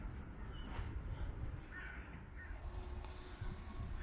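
A crow caws a few times in the distance over steady outdoor background noise, faint but distinct calls, by a river with floating ice near Olawski Bridge in Wroclaw.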